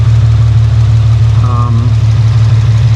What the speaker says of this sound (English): I think I found the source of my noise, and I believe it's coming from the AC compressor.